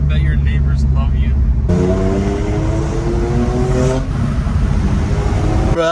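Loud BMW M2 Competition with VRSF downpipes and a burble tune, its exhaust droning steadily near the listener; a rising rev sweep builds midway, and voices can be heard underneath.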